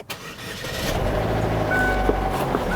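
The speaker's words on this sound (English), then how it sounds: "And next, we'll start the car." A car engine cranks and catches, then settles into a steady, loud idle close by, with a brief click partway through.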